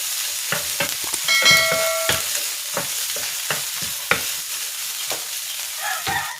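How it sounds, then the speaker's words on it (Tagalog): Boiled chicken sautés in a pan with a steady sizzle, broken by repeated scraping strokes of a spatula and a few metallic clinks. The sound is close and there is no speech. "Igigisa ko na rin dito itong chicken. Boiled chicken ito."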